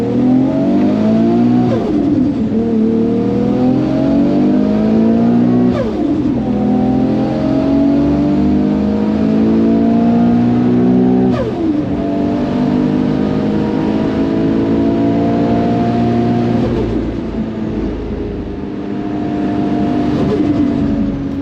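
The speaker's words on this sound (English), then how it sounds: "The turbo flutter never gets old." A loud turbocharged 730hp Nissan R33 GT-R engine revs hard through several rising gear pulls, with brief dips between shifts where the turbo flutters.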